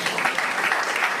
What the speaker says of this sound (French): Applaudissez quand même pour ça.